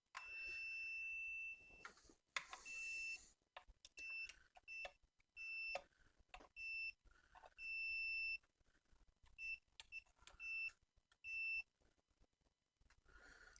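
A multimeter on continuity test checks grounds in an amplifier, giving a series of clear, high, steady beeps of varying length, some short and some held, spaced irregularly among quiet probing clicks with no talking.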